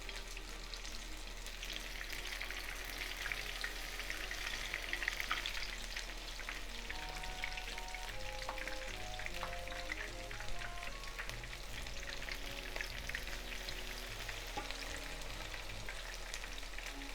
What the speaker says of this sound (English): Put some vegetables on a big spoon like this and gently slide it into the oil.